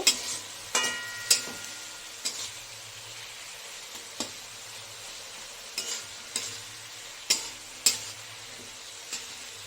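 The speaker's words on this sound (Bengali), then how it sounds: "মশলাটা কষানো হোক আমার সবজিটা কষানো হয়ে গেছে" Spiced masala and vegetables fry in a pan for a rohu fish curry with onion greens, a steady sizzle punctuated by repeated sharp scrapes and taps of a spatula stirring at irregular intervals.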